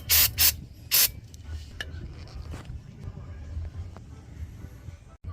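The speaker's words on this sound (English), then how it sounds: "I use brake cleaner to clean the rotors." Three quick loud bursts of brake cleaner sprayed onto the front brake rotors of a 2006 Ford Mustang GT, followed by faint rubbing and handling noises close by.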